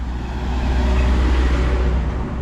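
A tourist road train from Dziwnów passing close by, a loud steady engine rumble with road noise throughout, no talking.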